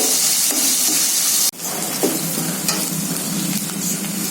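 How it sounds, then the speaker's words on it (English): Onions frying in a pan for tomato bath, a loud, steady close sizzle with stirring scrapes, briefly broken once as the pan is handled, then continuing alone. "Again I am going to stir this. Let it to fry."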